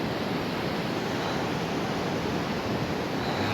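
Sokuluk mountain river in the Kyrgyz mountains rushing past, a steady broadband roar of flowing water that holds constant and fills the scene, no voices.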